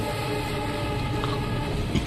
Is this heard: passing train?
yes